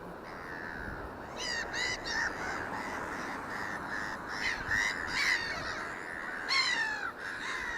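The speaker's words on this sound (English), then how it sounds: "Seagulls putting a show on for you. Noisy buggers." Seagulls call repeatedly outdoors, a series of harsh, raucous cries in bursts over steady background noise, fairly close and prominent.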